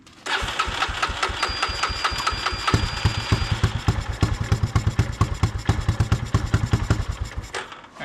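A Honda FourTrax ATV engine cranks on the electric starter, then catches and runs with a loud, close, rapid chugging idle that pulses steadily for several seconds before fading slightly.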